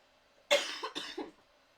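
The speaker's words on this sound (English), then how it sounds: "Was that a confirmation cough?" A person coughs twice close to the microphone, a sharp first burst followed by a second, shorter one, with silence around them.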